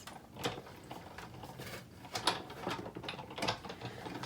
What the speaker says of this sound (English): Just going to run that through the Big Shot.